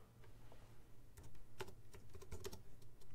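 Quiet, close typing on a computer keyboard, with irregular clusters of soft key taps and no voices.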